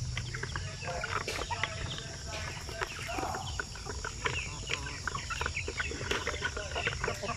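Chickens on a Filipino poultry farm, native breeds such as Bisaya and Darag, cluck and crow in a steady busy chorus, with a faint murmur of distant voices under the birds.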